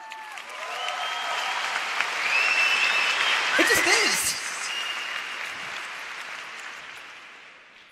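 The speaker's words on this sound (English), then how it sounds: "Let's clap that shit up because it's true" Keynote audience at a large entrepreneur conference breaks into sustained applause, a broad wash of clapping that swells mid-way and slowly tapers, with a speaker's voice cutting in briefly over it.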